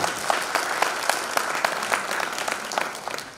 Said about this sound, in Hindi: एक बार जोरदार तालियां आप सबके लिए।